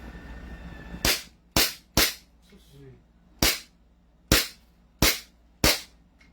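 Seven sharp single shots from a Glock 17 Gen 5 pistol, fired one at a time at uneven intervals in an open setting with a faint low background hum and a brief murmur between shots.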